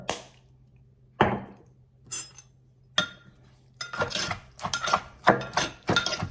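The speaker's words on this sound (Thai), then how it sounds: "หลังจากใส่เครื่องปรุงอาหารเรียบร้อยเขาก็ตำโอเคตำหมักแตงตำหมักเลนตำหมดทุกอย่างแหละ" Spicy cucumber salad being pounded in a mortar with fermented fish sauce, fish sauce and seasonings, heard as sharp separate knocks that start sparse and quicken into a denser run of thuds and clinks near the end.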